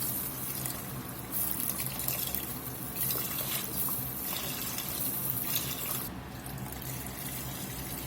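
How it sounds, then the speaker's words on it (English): Four cups of beef broth pour steadily into a pot for grillades, a continuous close liquid rush and splash that carries on throughout with no talk. "Go in with 4 cups of beef broth."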